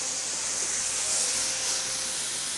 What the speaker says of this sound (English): when I want it to steam some, I add just a little water to it